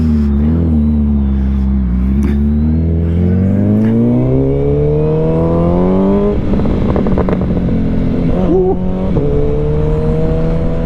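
A 2024 25th Anniversary Suzuki Hayabusa motorcycle roars loud and close through its exhaust pipe, its engine note climbing steadily through sustained revs with brief gear changes and throttle blips.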